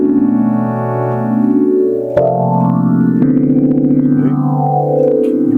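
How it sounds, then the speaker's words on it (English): A synthesizer in Ableton runs through a phaser effect, sustained loud tones with sweeping rising and falling harmonics and a few chord changes, played alone. "So now this is running through a phaser now."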